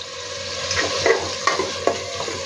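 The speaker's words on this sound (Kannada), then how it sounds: "ಒಗ್ಗರಣೆ ಸೌಂಡ್ಸ್ ಎಲ್ಲ ಬರ್ಬೋದು" Spices for a chicken biryani tempering sizzle in hot oil in a pan, with the spoon scraping and stirring through it: a continuous close crackle broken by several sharper clinks and stirs.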